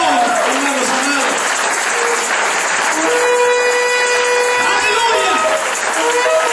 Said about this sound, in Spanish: ofrenden aplausos al Señor, hermanos amados.